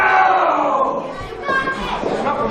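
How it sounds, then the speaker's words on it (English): A live wrestling crowd at an independent RYSE Wrestling show roars and shouts steadily, a dense wash of cheering voices that swells again toward the end. "This crowd in Lamont Furnace trying to rally here."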